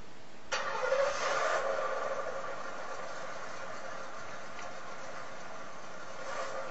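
Car engine in an action movie trailer set in a city, a steady mid-pitched drone that kicks in abruptly and holds at even loudness, with no talk.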